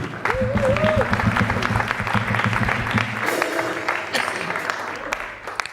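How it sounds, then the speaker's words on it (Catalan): Audience applause for a drummer at a live Catalan stage show, dense clapping running throughout alongside sustained band music and a sliding melodic line early on, with the music thinning midway as the clapping carries on. "un fort aplaudiment pel nostre bateria"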